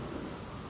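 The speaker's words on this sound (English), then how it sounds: "Huge storm." Thunderstorm sound effect, a brief dense wash of rain and rumbling thunder at steady loudness with no voices.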